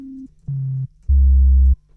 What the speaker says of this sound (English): It's pretty much just a simple sine wave.